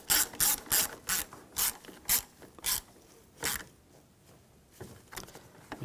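A hand ratchet tightens the negative battery terminal on a 2010-2017 Chevrolet Equinox 3.6L. Its clicks are loud and close, coming in a quick, even run of strokes before slowing into a few spaced pulls.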